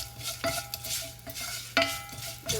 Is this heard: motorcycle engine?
no